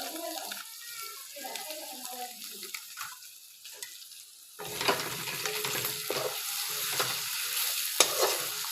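Taro leaves frying with ginger paste, cumin paste and chili powder, stirred in a pan; quiet rustling at first, then a louder steady sizzle with repeated scraping stirs, close up.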